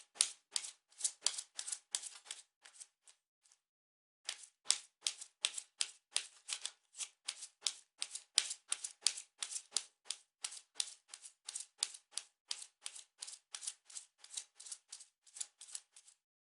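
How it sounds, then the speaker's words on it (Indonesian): A deck of tarot cards is shuffled in a long run of crisp, rapid clicks and snaps, close and distinct, with a brief pause near the start before the rhythmic shuffling resumes. "kartunya dikocok dulu sebelum kita mulai"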